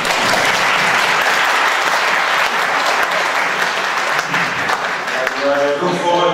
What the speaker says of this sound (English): welcome the teams by applauding them